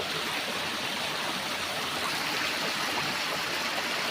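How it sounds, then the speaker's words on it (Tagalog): A strong stream current rushes steadily and loudly nearby, a dense continuous wash of water with no pauses or voices. "Lakas ng alo, lakas ng agos."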